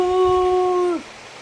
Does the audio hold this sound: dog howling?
yes